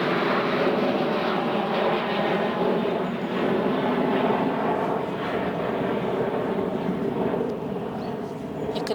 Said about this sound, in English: You can hear all the planes,